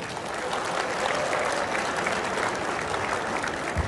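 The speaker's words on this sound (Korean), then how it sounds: "박수 좀 바랍니다" Members at a Korean clan association's annual general assembly applaud in a hall, a full and steady round of clapping from a large crowd.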